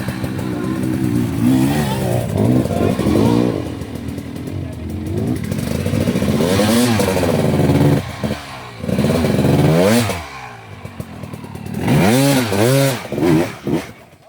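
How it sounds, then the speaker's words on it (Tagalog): Powerful motorcycle engine revving hard during a ride around Mt Pinatubo, a loud, rising and falling rasp with repeated throttle bursts close by, briefly cutting out, while people shout over it. "Lakas na makina."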